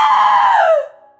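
A woman lets out a single ear-piercing scream of terror, loud and close, holding high for under a second before trailing off into silence.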